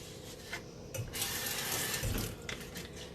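A kitchen knife is rinsed under a running tap beside a cutting board, steady splashing water flowing loudly and close for a few seconds, with brief scraping rubs as the blade turns in the stream.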